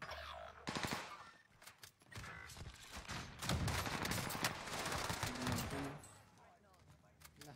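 Video game gunfire in bursts of rapid automatic shots and single cracks, loud and close, with players talking over it at times.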